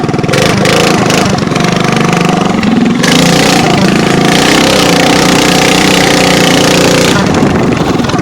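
A small go-kart engine drones loud and close on a wooded trail ride near a flooded track, revving and shifting pitch steadily throughout.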